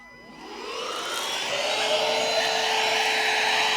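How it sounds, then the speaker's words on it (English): Bissell Featherweight cordless stick vacuum switching on and spinning up within half a second, then running at a steady, loud, close whir with no talking. "So to put the attachments on, there's this front piece right here. Goes on that easily, and we can start using it."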